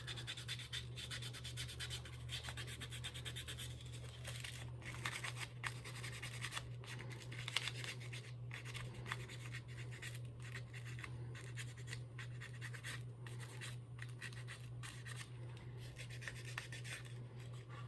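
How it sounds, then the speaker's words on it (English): Sandpaper rubs over the wooden gaff of a boat in a continuous, even rasp of back-and-forth strokes, faint and close, over a low steady hum. "I'll just take the sandpaper."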